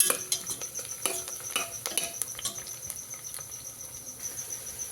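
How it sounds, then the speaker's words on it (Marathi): Onions and green chillies are stirred as they fry in a pan: a faint sizzle under a run of sharp ticking scrapes and clinks from the spoon, heaviest early and then thinning out. "मिरच्या टाकून घेऊया आता मिरच्या थोड्याशा हे होईपर्यंत हलवून घेऊया"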